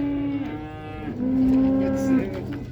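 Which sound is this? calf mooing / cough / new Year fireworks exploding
calf mooing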